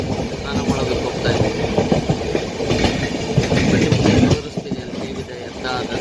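A train between Bhubaneswar and Jajpur, Odisha, rumbles steadily along the tracks with rhythmic clattering from the wheels, loud and close throughout, with a louder surge near the end.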